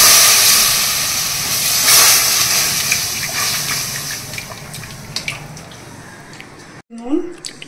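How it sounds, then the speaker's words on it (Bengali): Boiled and cooled milk is poured into flour frying in a hot pan, giving a loud, continuous sizzling hiss that gradually fades, ending in a few soft clinks and a short voice. "এই যে দুধটা জাল দিয়ে আমি ঠান্ডা করে রেখেছি, এবার এটা দিয়ে দেবো।"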